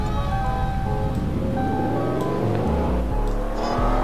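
Engine revving in the Roblox game Greenville during a drift or donut, a steady droning whine with rising harmonic tones and tire noise, loud and continuous with no talk.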